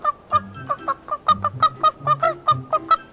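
Cartoon chickens cluck in a quick run of about a dozen short, evenly spaced calls, fairly loud and close, with no talk over them.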